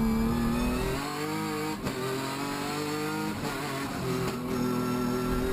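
Rhys Millen's race car screams up the Pikes Peak paved hillclimb course, engine loud and close as it accelerates hard through gear shifts with brief dips between revs.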